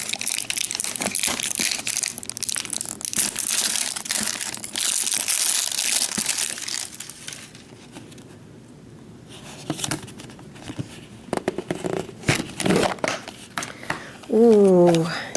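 Play-Doh packaging gets ripped open with loud crinkling, crunching plastic and cardboard, followed by a quieter spell of handling rustles and scattered taps. Speech is heard close by.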